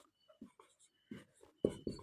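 Chalk or marker scratching on a board during a Class 10 maths lesson on real numbers, several short separate strokes with quiet gaps between them, close and fairly soft.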